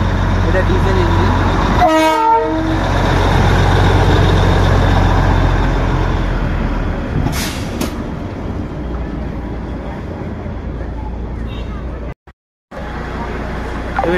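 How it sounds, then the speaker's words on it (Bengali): A diesel locomotive at a Darjeeling railway station rumbles loudly and steadily, with a short sharp horn toot near the start and a brief dropout near the end, while voices murmur faintly underneath. "এটা ডিজেল ইঞ্জিন।"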